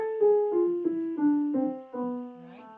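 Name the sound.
A harmonic minor scale played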